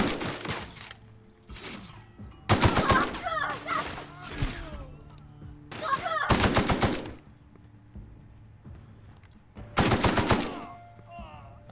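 Rapid automatic gunfire in The Outer Worlds, loud crackling bursts of shots arriving in three or four volleys, with a voice speaking over the quieter stretches.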